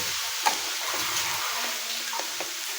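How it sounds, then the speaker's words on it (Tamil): Mashed potatoes are sautéed in a pan for Guntur karam dosa, giving a soft, steady sizzle broken by a few light scraping stirs, heard close and fairly quiet. "இப்போது அந்த ஆலூஸை நல்லா மேஷ் ஆனது போட்டுண்டு ஒரு வாட்டி வதக்கிக்கணும்"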